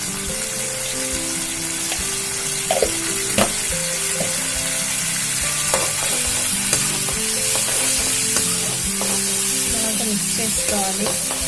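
Coriander pachadi with tamarind pulp and turmeric sizzling and frying in oil while being stirred in a pan, a continuous close crackle with scattered clinks and scrapes of the spoon.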